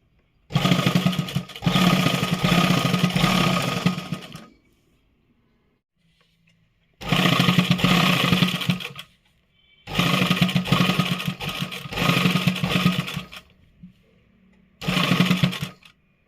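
Sewing machine stitching a warm winter inner garment, running in four loud, close bursts of several seconds each separated by quiet pauses, with a steady droning whir.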